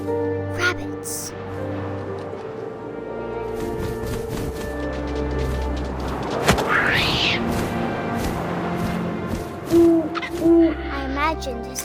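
Owl hoots in What Remains of Edith Finch: a few soft, low hoots near the end over a steady ambient game backdrop with wind and rustling, plus a brief higher flutter midway.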